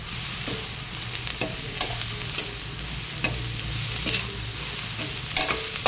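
Onions frying with salt in a pan for a fish pulusu: steady close sizzling under repeated sharp scrapes and knocks of a spatula stirring, with no talk.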